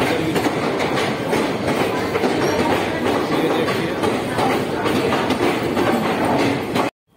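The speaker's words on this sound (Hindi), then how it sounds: "मधुबनी रूट का जो ट्रेन है जानकी एक्सप्रेस जो आ चुका है" Janaki Express train at Khagaria Junction, a loud continuous rumble of wheels and carriages rolling close by, with steady rail clatter throughout that cuts off abruptly at the end.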